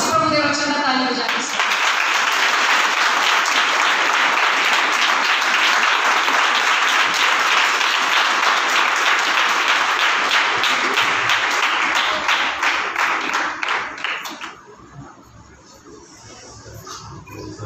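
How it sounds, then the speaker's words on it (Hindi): A Sunday church congregation in Amritsar, Punjab, breaks into loud, sustained clapping for about twelve seconds after a brief voice at the start, then the applause fades away into quiet room noise. "आओ इस प्रभु के वचन का ताली बजाएं"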